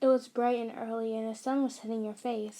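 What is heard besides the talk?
No distinct noise like a dog, phone or traffic.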